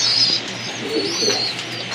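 Belgian-line racing pigeon cooing in soft, low repeated phrases, close by and alone, with faint higher chirps above and a steady background hum.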